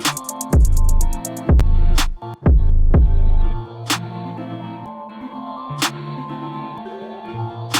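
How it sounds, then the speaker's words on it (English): A reversed sample chop processed with the Alter Boy plugin leads into a bridge section: a few loud stuttering chopped bursts with booming low hits, then sustained tones and sparse bright accents as the chop gives way to the bridge. "So there's that chop effect going into that bridge section."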